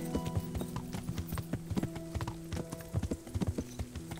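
Horse hooves gallop in the video game Kingdom Come Deliverance, a fast, steady clip-clop rhythm of repeated thuds at moderate volume with no voices over it.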